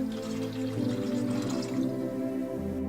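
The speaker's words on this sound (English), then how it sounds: "Fill the tank with no more than 6 liters of water." Water pours into the plastic tank of a Beurer LB 88 air humidifier, a steady close filling trickle with bubbling and dripping that lasts a few seconds without talk.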